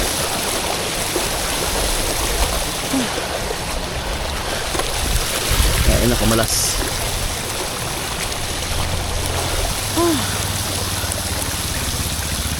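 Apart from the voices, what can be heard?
flood water on a street while cycling through it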